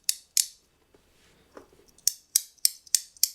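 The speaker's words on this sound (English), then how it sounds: "They are all haptic coins, so they do a slightly different sound." Umburry Fablades haptic fidget coins clicking sharply: two crisp metallic snaps, a soft scrape in between, then a quick run of five bright clicks at a fairly even rhythm, close and alone.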